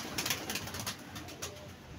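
Pigeons coo in soft, repeated low calls close by over a faint background hiss, with no voices.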